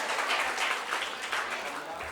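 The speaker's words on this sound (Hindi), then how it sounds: "एक बार और आपकी जोरदार तालियों की" Applause from a college audience at a kavi sammelan held at JMS Institute of Technology, Ghaziabad, a steady patter of many hands with a voice talking over it.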